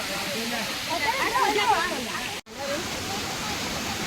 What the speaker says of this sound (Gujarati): મસ્ત ધોધ જઈ રહ્યો છે